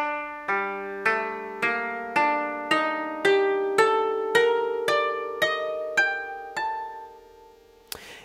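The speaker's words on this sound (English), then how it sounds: "the most important tuning for the instrument is called Hirajoshi" A koto tuned to traditional Japanese Hirajoshi tuning, its strings plucked one after another in a slow, even run of about a dozen ringing notes that each decay and overlap, close and clear with no voices.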